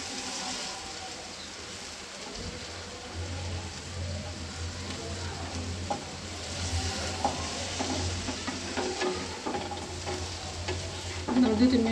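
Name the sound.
chapila fish frying with onions in a pan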